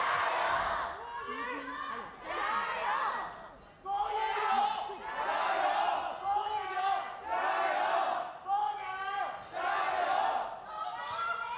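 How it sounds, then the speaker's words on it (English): An esports arena crowd at an LPL Spring Split playoff game between Suning and Top Esports chants and cheers in loud, rhythmic swells that rise and fall repeatedly. "the crowd is out in force for this game"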